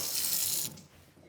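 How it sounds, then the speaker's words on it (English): Hot tap water runs from a faucet into a large bowl in a home kitchen, a steady bright rushing stream that stops partway through, leaving a quieter trickle and room tone. "I'm gonna take a big bowl and fill it with the hottest tap water."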